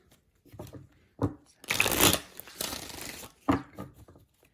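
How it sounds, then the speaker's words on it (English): Playing cards are shuffled up close: a few short riffling bursts, then a longer dense flutter, ending with a quick final riffle. "we're going to do one more shuffle"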